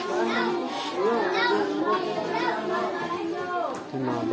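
Children play outdoors during a donation drive in General Nakar, Quezon, their voices overlapping in continuous lively chatter and calls.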